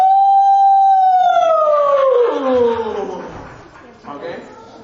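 A person mimics a coyote howl with a single long, loud, rising and slowly falling voiced wail that trails off, followed by a short, fainter vocal tail.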